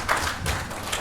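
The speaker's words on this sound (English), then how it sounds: "Applause again for the speaker." A conference audience gives a keynote speaker a short burst of applause, a close, dense patter of clapping hands lasting about a second.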